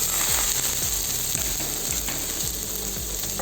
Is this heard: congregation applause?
no